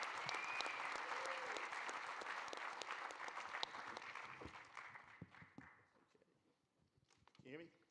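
Applause for a municipal chairman at a borough reorganization meeting, a roomful of people clapping briskly for several seconds, then tapering off into murmurs and a few voices.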